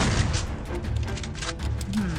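Rumbling explosions and booming blasts in Free Fire fill the clip, dense low thuds with crackling bursts on top, continuous and fairly loud.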